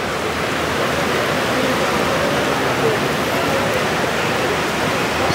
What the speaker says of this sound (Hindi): इस वक्त बारिश काफ़ी तेज़ हो रही है मक्का मुकर्रमा में